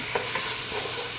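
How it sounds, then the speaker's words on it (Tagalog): Tomato being stirred into chicken macaroni pasta in a hot pan, giving a steady soft sizzle with light scraping strokes and a brief louder clatter at the end, with no talking. "At ating halu-haluin na mabuti."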